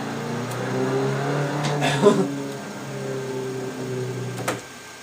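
A Nissan 180SX in the Assetto Corsa racing game held at full throttle in third gear, producing a steady buzzing engine drone that rises slightly, with a brief bump midway.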